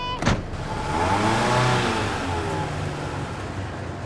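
A car pulls away close by, its mid-pitched engine rising and swelling for a few seconds before settling, following a brief sharp knock at the start.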